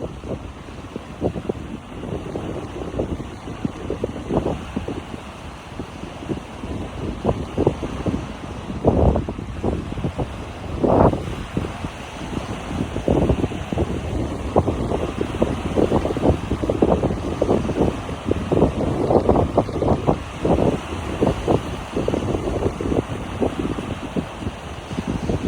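Strong wind buffets the microphone on Lake Texoma in November during a fishing trip, a continuous rough roar with gusty surges throughout and no talking.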